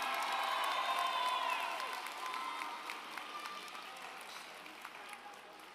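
Graduation crowd applauding a student advisor, dense clapping with scattered cheers and whoops that starts loud and gradually tapers off.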